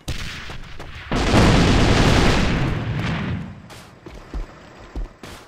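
A loud enemy grenade blast in the AVA first-person shooter: a sudden heavy boom that rolls and decays over a few seconds, followed by a few short sharp shots or impacts.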